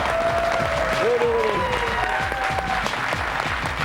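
A studio audience applauds the finalists of a televised tournament, loud dense clapping that runs throughout, with a host's voice and tonal music heard over the applause.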